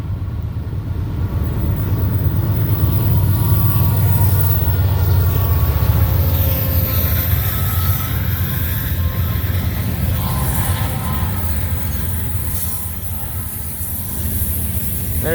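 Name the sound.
CSX freight train passing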